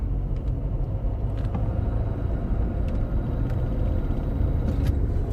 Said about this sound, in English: So yeah, the car is misfiring. Definitely is misfiring.